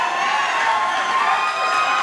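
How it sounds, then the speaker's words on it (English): Spectators at a Projitsu grappling match erupt in sustained, loud cheering and shouting that holds steady throughout, a dense roar of many voices with no pause. "Crowd going kind of wild about it"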